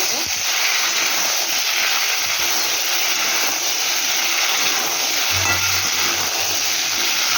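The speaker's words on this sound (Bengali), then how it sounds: "ফোড়নটা পুরো হয়ে গেছে রেডি তেলটা ভালোভাবে গরম হয়ে গেছে এখন আমি দিয়ে দিচ্ছি ভালো করে এবার ভেজে" Spices frying in well-heated oil in a home kitchen, a loud steady sizzle and hiss that fills the whole stretch, with a low hum joining near the end.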